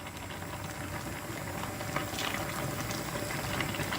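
Pasta water rolling at a steady boil in a pot, a dense continuous bubbling wash heard up close with no talking.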